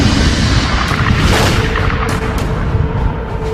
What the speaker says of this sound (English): pulsars are formed in these incredible explosions